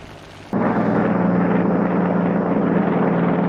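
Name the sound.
Japanese fighter planes flying overhead, sound effect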